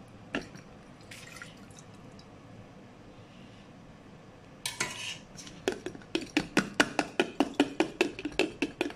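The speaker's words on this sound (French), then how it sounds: "Donc maintenant celui-ci on peut le mettre en bocal. Donc facile, hein, on prend une louche." Homemade tomato coulis is ladled from a pot through a funnel into jam jars, beginning with soft drips and scattered metal and glass clinks, then a quick run of sharp, close taps near the end.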